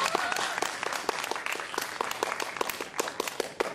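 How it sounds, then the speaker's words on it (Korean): Church congregation at a Sunday thanksgiving service in Vancouver bursts into applause, a lively, close round of many hands clapping with crisp individual claps throughout. "박수 좀 한번 해주세요."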